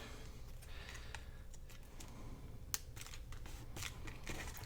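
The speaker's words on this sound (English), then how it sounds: "We need to cut it straight." Scissors cutting paper to make a journal pocket, giving a few faint, sparse snips and crisp clicks over a quiet indoor background.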